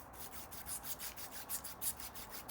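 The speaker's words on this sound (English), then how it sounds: "I've been taking 220 grit sandpaper, cutting it into thin strips, and going over all this rust jacking right here" Thin strips of 220 grit sandpaper scrub back and forth over rusted metal parts, a steady close rasping with regular rhythmic strokes and no talking.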